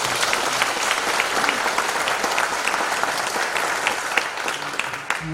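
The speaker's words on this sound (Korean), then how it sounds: "우리 격려의 박수 한번." A church congregation claps in encouragement during a Korean service, a dense, steady round of applause from many people, holding an even level throughout.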